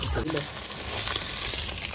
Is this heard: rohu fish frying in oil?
yes